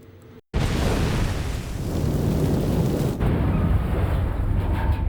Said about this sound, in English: It was an enormous explosion.